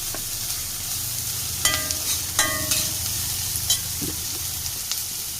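Clam meat roast, Kerala style, being stirred in a hot pan: a steady close sizzle of frying runs throughout, broken by a few sharp scraping clinks of the spoon against the pan.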